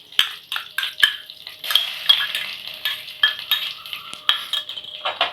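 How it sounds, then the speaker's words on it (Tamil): Ginger garlic paste sizzles in hot oil in a pan with curry leaves and dried red chillies, close up, while a metal spoon scrapes and clinks against the pan in quick irregular stirring strokes. "நம்ம எடுத்து வச்ச இஞ்சி பூண்டு பேஸ்ட்டை சேர்த்துப்போம்."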